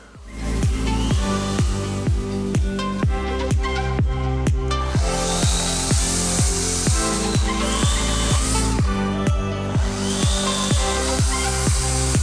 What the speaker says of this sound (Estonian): saega on võimalik saada Ioniqust nii palju voolu, et saad õunapuu maha saagida